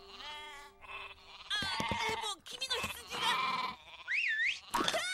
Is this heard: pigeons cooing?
no